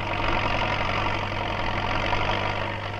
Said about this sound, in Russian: С его конвейера сходят самые мощные в стране тракторы.